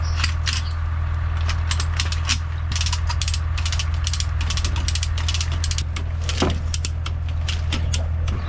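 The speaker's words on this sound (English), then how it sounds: "I got a light duty come along" A light-duty come-along ratchet winch is cranked beside a junkyard Ford wrecker, giving rapid bursts of metallic clicks in an uneven rhythm, close and loud, over a steady low engine hum.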